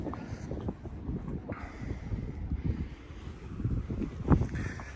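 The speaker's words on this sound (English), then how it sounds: "so we got a bit of a sea breeze, you probably hear that." Sea breeze rushing across the foredeck of a Sunseeker Predator 50 motor yacht, a steady low buffeting wind noise against the microphone, fairly loud and continuous with gusts swelling and falling throughout.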